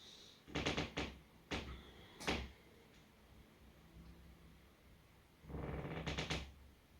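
Wooden floor creaks under a person moving through a yoga flow: several short, faint creaks close by, then a longer creaking groan after a quiet pause, in a still room.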